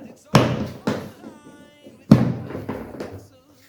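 Hard plastic latches and lid of a Reximex rifle hard case clack open, three or four loud close thumps and clicks with short ringing tails, separated by brief quiet gaps.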